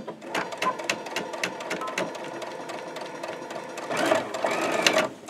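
Sewing machine running in steady bursts as it stitches a T-shirt quilt with a tight 2.5 stitch length, locking the seam back and forth, close and clear with brief pauses between runs.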